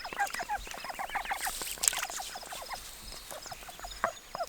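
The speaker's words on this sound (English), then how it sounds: "Look at that baby duck swimming." Rapid, chattering bird calls keep going throughout, bright and fairly close, heard near a baby duck swimming on the water.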